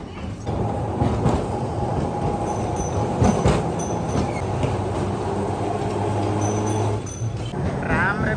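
Inside a moving Kolkata tram, a steady rumble of wheels on rails runs throughout, with rattling, clanks and a brief squeal near the end, loud and close.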